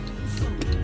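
Hazard light relay of a Mercedes ML500 clicking in a steady, evenly spaced tick-tock rhythm, close and clear over a low background rumble.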